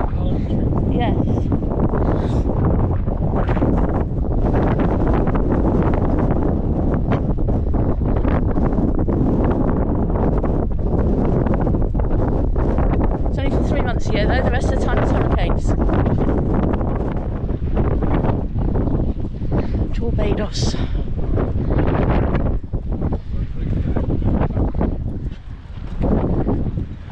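Breeze at Torquay seafront on the English Riviera, buffeting the microphone as loud, continuous gusty rumble, with people talking nearby over it.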